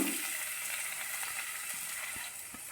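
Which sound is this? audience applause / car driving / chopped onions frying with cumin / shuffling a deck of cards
chopped onions frying with cumin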